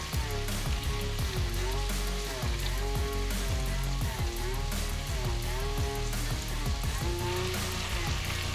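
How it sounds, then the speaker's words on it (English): Onions fry in oil in a pot for BBQ brisket baked beans, crackling in a steady, close sizzle while music plays over the top throughout. "now that the onions are translucent"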